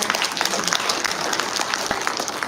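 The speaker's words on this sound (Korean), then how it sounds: "박수 한번 보내드리고 가겠습니다." Audience at a book talk event giving a round of applause, dense continuous clapping at an even level for the full stretch.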